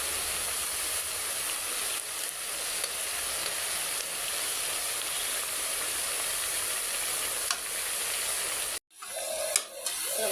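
Lentil fritters (bora) frying in a pan, a steady broadband sizzle and hiss running continuously, then cut off abruptly near the end before faint clatter.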